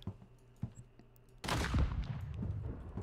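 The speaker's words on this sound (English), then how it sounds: "Starboard side cannon!" A sudden loud ship cannon blast from the starboard side bursts in partway through the video game Blackwake, followed by rumbling booms and crackling, after a stretch of quieter clicks and game sounds.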